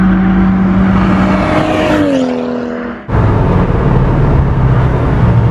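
A 400bhp BMW M135i race car on track, its engine loud and close, holding a steady note and then dropping in pitch before a sharp cut and a renewed roar under acceleration.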